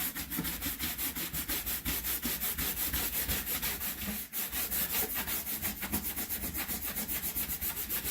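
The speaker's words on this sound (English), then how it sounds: "So then you just want to buff it out. Really get a nice buff onto that leather." Steady back-and-forth rubbing of a cloth buffing a leather surface, close and continuous with a regular stroke rhythm, no talking.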